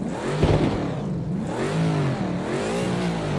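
A McLaren 650S GT3 race car in a racing simulator revs its engine, pitch sweeping up and down through several sustained rises and falls with a brief thump near the start.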